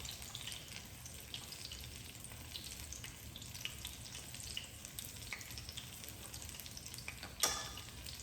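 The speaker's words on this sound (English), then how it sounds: "the filling came out, so you can hear the sizzling sound" Quiet, steady sizzling of Chinese egg rolls frying in hot oil, a soft crackling hiss with one brief sharper pop near the end.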